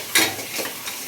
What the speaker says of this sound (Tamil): அதுக்கப்புறமா வெங்காயம் போடுறோம் தேவையான அளவு.